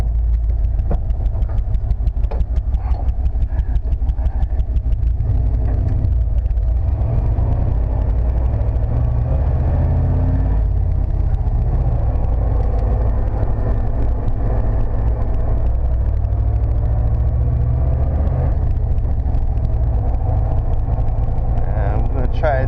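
A 1995 Chevrolet C/K 1500 4x4 stepside pickup with a five-speed manual drives in two-wheel drive, its engine droning steadily and loudly from inside the cab with a low rumble throughout.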